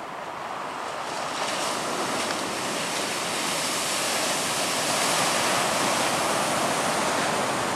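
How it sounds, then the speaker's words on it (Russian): Rough Black Sea surf roars continuously, a dense wash of crashing waves close by on the shore, steady and loud with wind rushing over the microphone. "Вот так вот бушует море."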